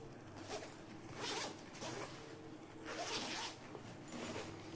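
Several quick zipper pulls on a school bag, close and quiet, with short rasping strokes spaced about a second apart.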